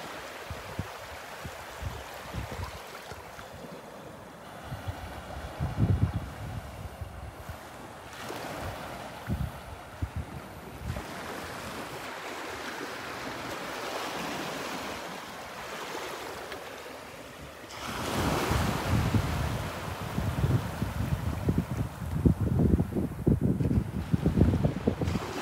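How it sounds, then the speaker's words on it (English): Waves wash in and out on Delnor-Wiggins beach under gusting wind buffeting the microphone, rising to a heavier rush of surf toward the end; no voices. "the sound of the waves."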